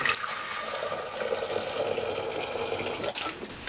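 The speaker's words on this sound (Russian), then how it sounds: "Кипятим чайник, заливаем кипяток" Boiling water from a kettle pours steadily in a close, hissing splash with a slight bubbling texture, then briefly falters near the end.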